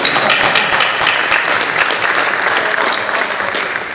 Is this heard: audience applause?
yes